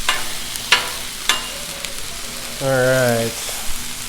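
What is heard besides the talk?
potatoes shallow frying in oil on a Blackstone griddle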